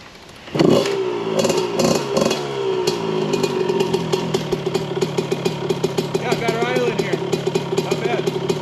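A 1989 Honda CR125R two-stroke dirt bike kicks to life and revs repeatedly in sharp bursts, loud and close, before settling into a rough, rising and falling engine note.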